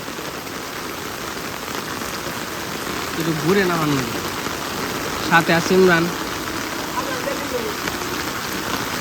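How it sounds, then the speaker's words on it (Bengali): Steady rain falls outdoors with an even, hissing patter throughout. A faint engine idles in the background while people talk over it. "কি অবস্থা বৃষ্টি, অনেকদিন পরে বৃষ্টি পেলাম"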